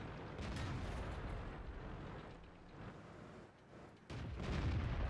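Tank cannon fire in World of Tanks from a 59-16 light tank: a low, rumbling engine bed under a deep booming blast, with a sharp, heavy discharge landing near the end, fairly quiet overall.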